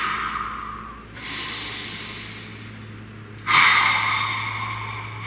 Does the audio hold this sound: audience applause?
no